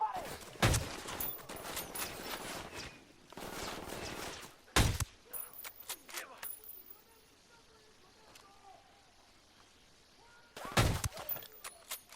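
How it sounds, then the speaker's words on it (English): Gunfire rattles through a shooter video game in several loud bursts that are spaced apart, each one cracking sharply with quieter gaps and faint in-game sounds between them. "Opening fire."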